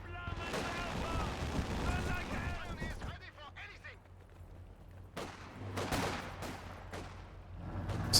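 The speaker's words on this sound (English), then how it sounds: "Karabas being supported by the mortar half-track." A mortar half-track fires in a strategy war game amid rattling gunfire and bursts of distant shelling, the battle noise rising and falling while a commentator talks over it.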